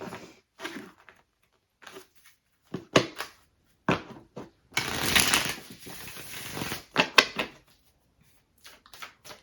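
Tarot cards shuffled and handled in uneven bursts of papery slaps and flicks, with one longer riffling stretch in the middle and quiet gaps between, no speech.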